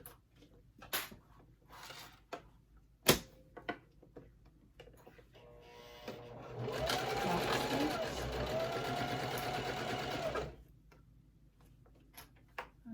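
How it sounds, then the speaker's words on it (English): A domestic sewing machine stitching the second side of a wallet runs steadily for about four seconds, close and fairly loud, between scattered clicks and handling taps. "So let's sew the other side."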